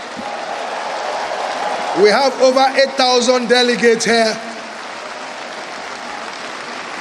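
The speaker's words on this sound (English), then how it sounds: "Give this great body a resounding applause." Delegates at an annual accountants' conference applaud in a broad wash of clapping that runs through the clip, while someone speaks loudly over it for a couple of seconds in the middle.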